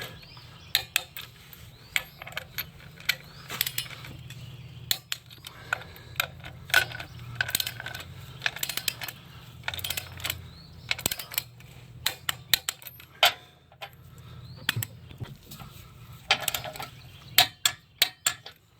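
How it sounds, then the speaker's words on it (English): A ratchet wrench clicks in quick bursts while engine bolts are torqued to 45 foot-pounds during an engine replacement on a 2017-2020 Nissan Rogue 2.5L, with sharp close ratcheting and metallic taps over a low shop hum. "I'm going to start torquing all these to 45 foot-pounds here"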